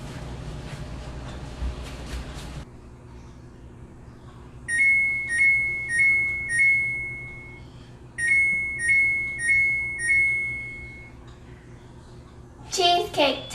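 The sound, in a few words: cheesecake oven timer alarm beeping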